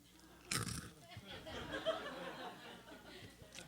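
Biting into crunchy dry kibble, one sharp crunch followed by a few seconds of close, wet chewing and munching, with faint chuckling and a breathy sound near the end.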